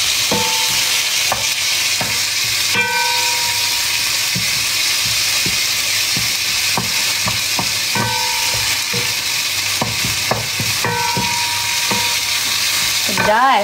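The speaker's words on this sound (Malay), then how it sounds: "Nasi goreng. Masak nasi goreng." Spicy nasi goreng sizzles steadily in a hot pan, a continuous loud frying hiss broken by repeated scrapes and clacks of a spatula stirring the fried rice, with no talking.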